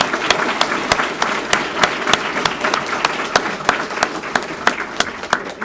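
Graduation ceremony audience claps for veterans in uniform, a steady round of applause with sharp, closely spaced hand claps standing out clearly over the crowd, holding at an even level throughout.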